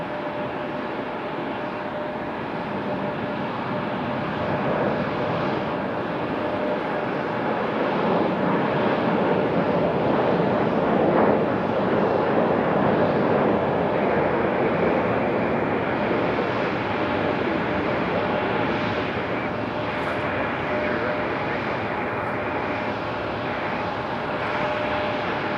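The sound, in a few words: aircraft departing from Raleigh-Durham airport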